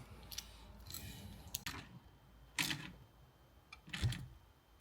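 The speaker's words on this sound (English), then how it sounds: "And let's tighten that up." A nut is tightened onto a windscreen wiper arm on a Land Rover Defender L663, with a few faint, separate clicking and ratcheting bursts spaced about a second apart in a quiet setting.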